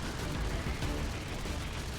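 An 800 RPM fragmentation shell cannon fires nonstop in the naval combat game From the Depths, a dense, steady, loud rattle of rapid shots that blur into one continuous roar.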